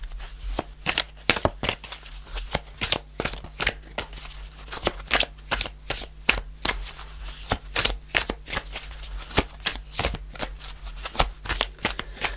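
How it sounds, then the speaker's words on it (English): Tarot cards are shuffled by hand in a steady run of crisp riffling bursts and soft slaps, close and fairly quiet, continuing for several seconds with no talking. "I'm gonna pull a final card."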